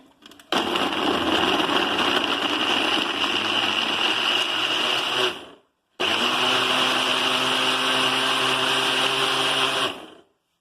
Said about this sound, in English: So now I am ready for the big blend.